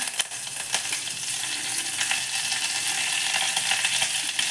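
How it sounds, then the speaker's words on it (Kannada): Mustard seeds and curry leaves hit hot oil and sizzle loudly and continuously, with sharp crackles and pops spattering throughout. "ಆ ಎಣ್ಣೆಗೆ ಸಾಸಿವೆ ಹಾಕೋತಾ ಇದ್ದೀನಿ ಹಾಗೆ ಕರಿಬೇವಿನ ಸೊಪ್ಪು ಕೂಡ ಹಾಕ್ಕೊತಾ ಇದ್ದೀನಿ"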